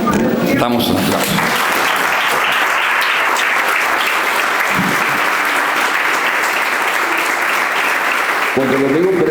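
A church congregation claps together in sustained, loud applause that fills the room for most of the stretch, with a voice briefly heard at the start and end.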